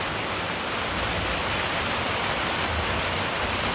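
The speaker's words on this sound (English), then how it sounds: "So the rain a fall." Heavy rain pours down around a house in Jamaica, a dense, even hiss of falling water, close and loud throughout with no speech.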